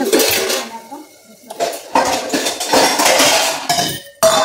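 A metal cooking pot clatters and clinks as cooked vegetables are taken off the stove in a home kitchen, with several loud bursts of clanking broken by brief pauses.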